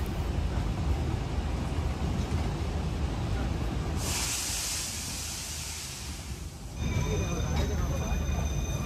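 Darjeeling toy train running near Kurseong at the start of its zigzag line, a steady rolling rumble with a burst of hiss partway through and a faint high squeal near the end.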